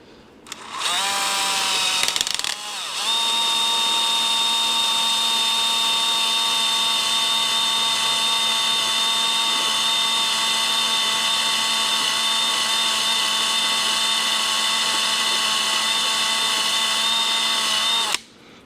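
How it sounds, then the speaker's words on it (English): A 1/4-inch carbide drill bit bores into unexpectedly hard steel on a hydraulic motor adapter, a loud, sustained high-pitched whine that starts, briefly stutters, then holds steady for about fifteen seconds before cutting off. "I've got a carbide bit, 1/4 inch in here"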